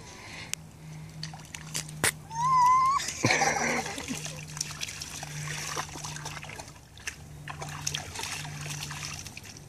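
A dog splashes in water around 2–4 seconds amid a steady low hum, with a high whistling tone and scattered clicks; a voice speaks briefly.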